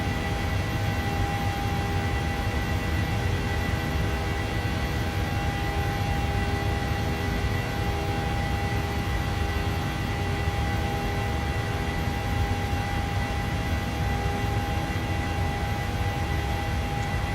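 A steady, loud airplane engine drone plays as the aircraft climbs in Microsoft Flight Simulator 2020 while departing Phoenix. The engine hum and rumble hold constant and unbroken with no talking.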